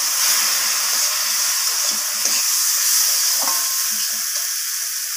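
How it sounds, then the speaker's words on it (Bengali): Onion, tomato and spices frying in a pan, a steady bright sizzle and hiss throughout with faint stirring clinks, close and continuous with no talk. "আমি পেঁয়াজ আর টমেটোর সাথে মশলাগুলোকে এইভাবে কষিয়ে নিচ্ছি।"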